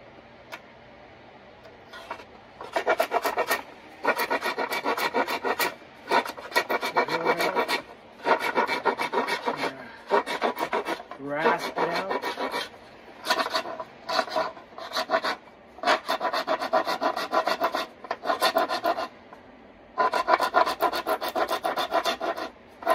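A thin rasp files wood to hollow out a Tenkan overtone flute, making repeated close scraping strokes in bursts with short pauses between them.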